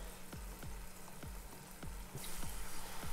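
Marinated chicken pieces frying in batches over medium-low heat, a steady soft sizzle with a regular series of faint ticking pops, quiet and close, growing slightly brighter toward the end, no voices.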